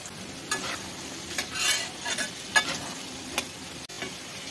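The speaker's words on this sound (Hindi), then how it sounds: "लो फ्लेम पे इसकी कलर चेंज होने तक इसे फ्राई कर लेते हैं।" Soya chaap frying on low flame in a pan, giving a steady close sizzle broken by several sharp stirring scrapes and taps, with no voices.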